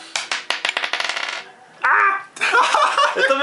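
Dice rattle and clatter across a table during a board game, a quick run of sharp clicks and bounces, followed by bursts of voices and laughter nearby.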